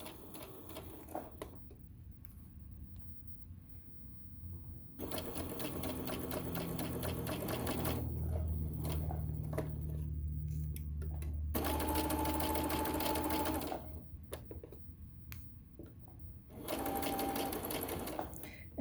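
A sewing machine stitches tote bag pieces together in bursts of rapid, close mechanical whirring, separated by short quiet pauses with faint handling sounds and no voices.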